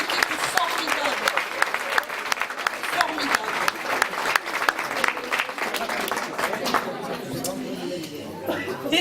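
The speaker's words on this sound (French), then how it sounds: "C'est eux qu'il faut applaudir ce soir. Vous avez raison, applaudissez-les, ils le méritent." An audience at a club's 30th anniversary celebration applauds the club team, a dense, sustained burst of clapping from many hands with murmured chatter that thins out toward the end.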